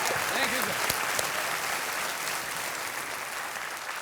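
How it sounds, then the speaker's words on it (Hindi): A TV quiz show studio audience gives loud, sustained applause, dense clapping that runs without a break and fades slightly toward the end, with a brief voice near the start. "एक बार फिर जोरदार ताली हो जाए बीसीएल टीम।"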